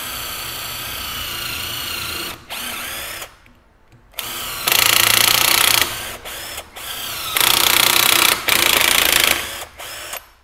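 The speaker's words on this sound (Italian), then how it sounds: "Per fare questa prova sto utilizzando una punta per il metallo, anche se sto forando il legno" Ribimex cordless 18V impact driver, rated at 150 Nm, drilling into wood with a metal bit: several loud whirring bursts of high-pitched motor whine, separated by brief pauses, with no voices.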